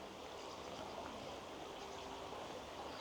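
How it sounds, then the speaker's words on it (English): Stream in a nature reserve flowing steadily, a continuous soft rushing and trickling wash with no breaks and no voices. "enjoy the sound of the water."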